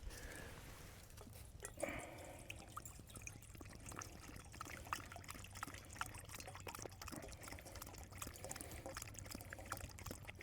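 Water is poured at a bushcraft camp to give dogs a drink, a faint, steady trickle and splash that keeps going for about ten seconds against quiet outdoor background.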